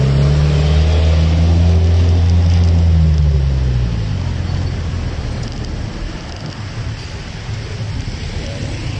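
Road traffic on a busy route rumbles loudly, with a nearby vehicle's low engine drone swelling and sliding downward over the first few seconds, then fading into steady roadway noise and wind.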